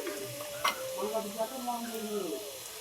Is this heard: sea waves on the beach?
no